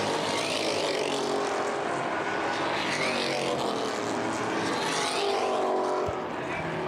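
Race cars roar around the track at the Winchester 400, a continuous loud wall of engine noise with overlapping cars passing by, heard from trackside without pause.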